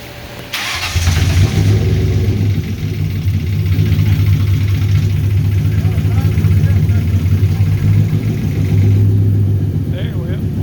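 A 1967 Ford F100 truck with a swapped-in 1998 Cobra engine starts and settles into a loud, steady, close-up idle with a slight rev, while people talk nearby.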